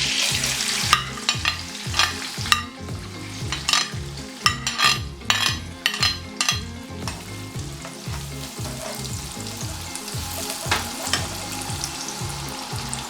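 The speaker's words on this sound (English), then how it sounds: "little bit butter. I will add my onion." Onion frying in butter for Nigerian fried rice makes a steady close sizzle, punctuated by frequent sharp clinks and scrapes of a utensil stirring in the pan, with no voice present.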